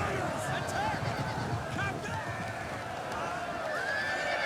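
Cavalry horses charging in a Total War multiplayer siege at Helm's Deep, a quiet rumble of hooves with scattered whinnies and battle noise blending into a distant, continuous din.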